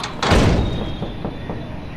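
A door in a Roblox horror game set in a shawarma kiosk slides and bangs shut with a loud, close thud, and a low rumble trails off after it.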